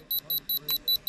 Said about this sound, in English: Dang this constant alarm.